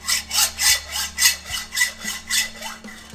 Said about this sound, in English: One thing I wasn't expected to be doing was sawing, especially exhaust pipes.